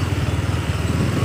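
A Yamaha R15 V4 motorcycle on the move, its engine thrumming in a steady, rapid pulsing drone, loud and close, with no talk over it.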